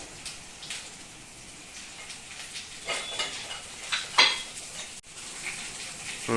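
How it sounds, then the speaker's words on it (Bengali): Potato and tomato fry in a pan with a steady sizzle, broken by scraping and clinking of a utensil stirring against the metal, heard up close with no talking. "টমেটোটা এই আলুটা ভাজছি, তার মধ্যে টমেটোটা একটু হালকা করে ভেজে নিলাম"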